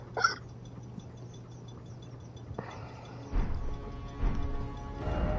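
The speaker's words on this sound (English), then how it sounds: "Oh, hiccups." A single sharp hiccup from a person close to the microphone, heard right at the start over a low steady hum, followed by quiet background game noise.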